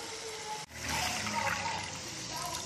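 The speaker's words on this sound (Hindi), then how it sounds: "हमने इसमें आधा किलो वाटर डाल दिया है।" Half a kilo of water is poured into a cooking pot for chicken pulao, making a steady, fairly quiet rushing splash that briefly breaks and then continues.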